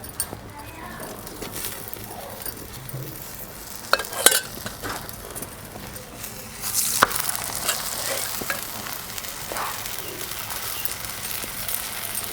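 A garlic onion cheese paratha frying in ghee on a tawa, a constant crackling sizzle with occasional spatula scrapes and clatter, heard close throughout.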